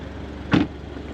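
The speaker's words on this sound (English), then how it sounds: "Let's do our door thunk test again." Car door shut on a 2025 Toyota GR86, one short solid thunk, close and fairly loud, over a quiet background hum.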